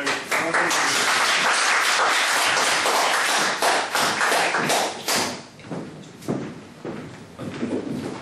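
Audience applause at a lecture in a resonant hall, a dense burst of clapping that fills the first five seconds, then thins into scattered claps and a few taps.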